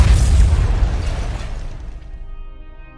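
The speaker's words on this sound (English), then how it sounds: "the bomb is detonated." Bomb detonation in a Power Rangers episode: a single loud, close, booming blast with a heavy low rumble that slowly decays over a few seconds, with no talk.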